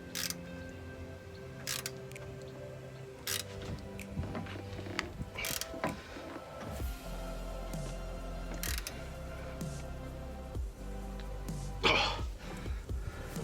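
A bolt on the upper control arm of a Nissan 350z is tightened, giving repeated ratchet clicks and metallic mechanical clatter at close range in irregular bursts, with some faint low rumbling and no talking.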